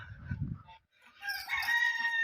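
Young rooster crowing among free-range poultry on a small farm where geese are also kept, a single loud nearby call rising after a brief pause, with low grunting or clucking beforehand.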